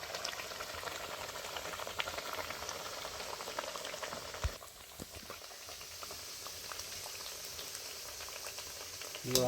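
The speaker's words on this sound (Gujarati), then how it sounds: "આવી રીતના થોડા થોડા નાખીને આપણે તળતા રહીશું." Dhebra fry in hot oil with a soft, continuous sizzle and gentle bubbling, quiet and even throughout, with a few faint clicks from the pan.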